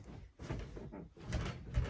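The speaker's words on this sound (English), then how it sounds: "my bed frame is super creaky." A creaky bed frame groans and creaks under shifting weight, a few low wooden creaks and rubbing strains in quick succession, close and fairly quiet with no talking.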